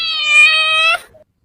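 A cat lets out a single clear, close meow lasting about a second, then falls silent.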